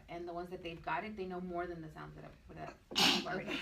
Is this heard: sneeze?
yes